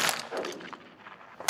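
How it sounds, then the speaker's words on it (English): Gunfire during a spring duck hunt in Yakutia, Siberia: a loud, sharp shot bursts out near the end, after a stretch of lower rumbling outdoor noise. "Gunshots."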